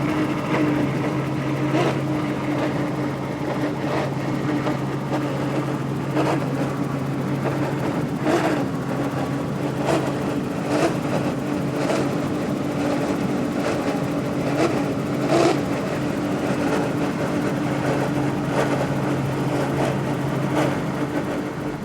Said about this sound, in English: Let's listen to these 400Rs as he cranks the throttles.